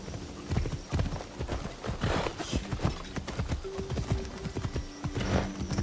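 Horse hooves clip-clop in the video game Assassin's Creed Shadows, a steady rhythmic trot of close, fairly loud thuds. A brief whinny and occasional faint talk sit under the hoofbeats.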